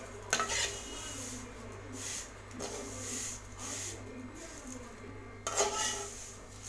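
Vermicelli is fried and stirred in a pan, with a metal spoon scraping and clinking against it in repeated strokes over a soft, faint sizzle, close by.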